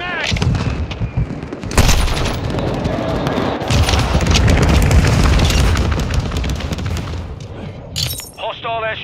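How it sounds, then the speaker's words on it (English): Airstrike explosions and rapid gunfire in Call of Duty Modern Warfare 2 multiplayer, with dense, loud booms and continuous shooting layered over one another, and a radio voice announcing in-game alerts near the end. "Hostile airstrike near your location."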